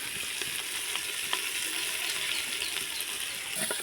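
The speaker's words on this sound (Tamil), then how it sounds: "இப்போ நல்லா இதை கிண்டி விட்டுறணும், பச்சை வாசனை போகிற வரை." Masala for a country hen curry sizzles steadily in hot oil while being stirred, a dense, even frying hiss with faint scraping strokes throughout, close and moderately loud, no voices.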